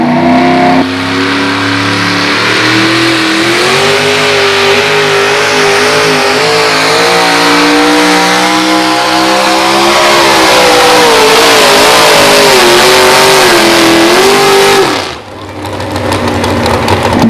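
Pulling truck in the 6200 two-wheel drive class at a county fair roars at full throttle, a loud sustained engine drone with shifting pitch that climbs through the run, then abruptly cuts and drops to a lower rumble near the end.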